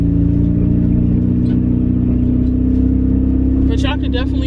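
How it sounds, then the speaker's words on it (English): A loud old beat-up car driving, its engine and road noise forming a heavy, steady drone from start to finish, with a voice talking over it. "Y'all probably can't even hear me right now because the car is so loud."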